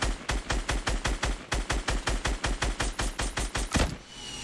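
Rapid automatic gunfire in Fortnite Battle Royale, a steady stream of evenly spaced loud shots for about four seconds that ends in a heavier burst, then stops.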